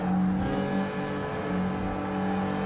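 Engine roar from race cars in Gran Turismo Sport, with a Lancia Stratos closing on a Toyota MR2 GTS: a steady, loud droning hum with sustained tonal whine, holding level throughout without pauses.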